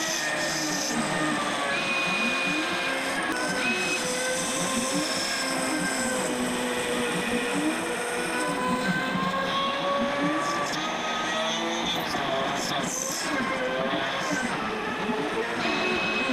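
DIY CNC router milling a pocket in aluminum, a steady high-pitched spindle whine with layered tonal squeal and repeating sweeping tones as the cutter moves through its passes, continuous and close, with no talk.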